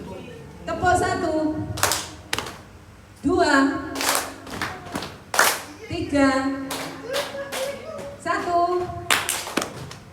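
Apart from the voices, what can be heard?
children clapping hands on their own thighs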